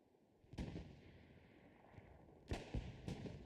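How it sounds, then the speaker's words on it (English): Distant artillery booms during a Hell Let Loose competitive match: a heavy thump near the start, then a quick cluster of three sharp blasts later, over a steady low battlefield rumble. "That's the artillery firing."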